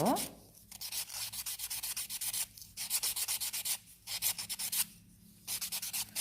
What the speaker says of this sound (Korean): 사포가 피부에 닿아서 상처가 나지 않게 잘 잡고 조심히 갈아주세요